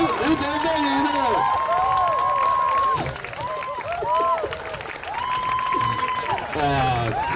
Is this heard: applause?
yes